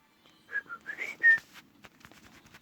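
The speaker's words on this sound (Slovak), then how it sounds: "Tak som zapískal." A person whistling a short run of wavering notes, fairly quiet and close, followed by soft clicks and rustling in a quiet room.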